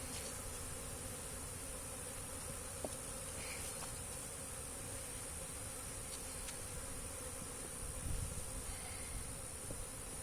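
Honey bees swarm around an open hive while frames are pulled for inspection, giving a dense, continuous buzzing hum that fills the air, close and steady, with no voices.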